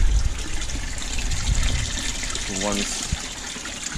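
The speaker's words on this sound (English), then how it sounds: "the water that's filling up the sump now" Water gushes and splashes as it fills an aquarium sump filter serving large tanks, a steady close churning rush with a brief spoken word over it.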